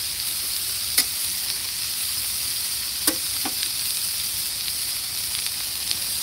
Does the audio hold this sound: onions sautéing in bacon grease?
yes